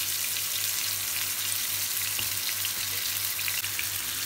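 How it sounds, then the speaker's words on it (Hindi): Chicken pieces fry in hot oil in a nonstick pan, a close, steady crackling sizzle with a faint low hum underneath. "तेल गरम हो चुका है, हमारे चिकन पीसेस जा रहे हैं।"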